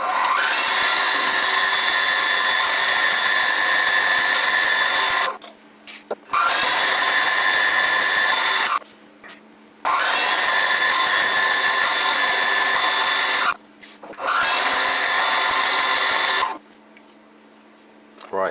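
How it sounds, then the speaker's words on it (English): A drill runs loud and close in long sustained bursts, cutting out briefly between runs with quiet pauses as it bores clearance holes through steel. "that's the two clearance holes drilled through to be able to bolt it onto the back"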